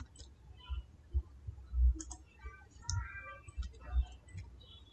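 Keyboard keys tapped for a Ctrl+H find-and-replace shortcut in Google Docs, a few soft, close clicks and thumps with no talk.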